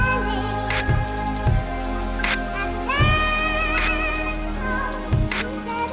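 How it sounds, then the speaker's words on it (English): A trap drum pattern plays over a sampled melodic loop: punchy kicks in a steady rhythm with crisp rapid hi-hat rolls and a deep sustained bass, loud and up front. "So I even have this trap drum pattern which just sounds like this."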